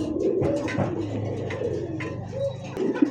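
Pigeons at a pigeon seller's coop coo in low, rolling, repeated calls, close and fairly loud, with several birds overlapping and faint clatter behind.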